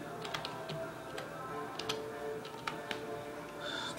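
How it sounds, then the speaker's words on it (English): Close, quiet computer keyboard typing comes as scattered, irregular key clicks over a low room hum, with short pauses between bursts. "just type that in there"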